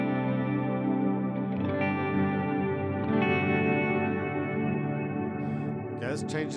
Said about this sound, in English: Then I have a separate reverb in parallel.